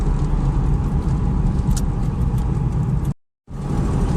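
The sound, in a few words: used car driving on the road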